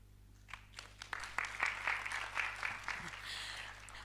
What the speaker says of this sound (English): Let's give them a very good clap.